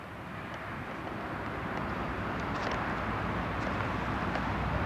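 A scale model F-86H jet aircraft at an outdoor scale aircraft show, heard as a steady broadband jet roar that builds slightly and holds, fairly loud with no talk.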